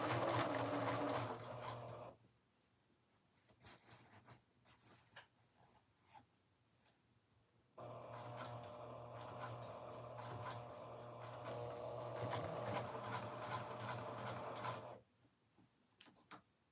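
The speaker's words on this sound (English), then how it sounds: "And we're going to sew this pocket down." A sewing machine stitches a garment pocket down at a 4-stitch length, running in two long, steady mechanical bursts with a quiet pause between, close and alone.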